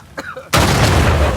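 An exploding mummy in Uncharted 4 on PS5 erupts as a sudden loud blast that gives way to a sustained roaring rumble, preceded by brief faint game sounds.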